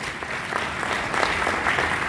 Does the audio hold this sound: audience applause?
yes